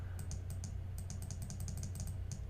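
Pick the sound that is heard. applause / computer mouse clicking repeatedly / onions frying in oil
computer mouse clicking repeatedly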